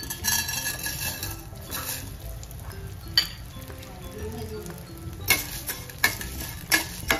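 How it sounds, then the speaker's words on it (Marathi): Edible gum (dink) frying in ghee in a hot pan on low flame for dry fruit laddu, a soft, close sizzle with intermittent metal spoon scrapes and clinks against the pan. "बारीक गॅसवरच आपल्याला हे करायचं, फ्राय करून घ्यायचं डिंक।"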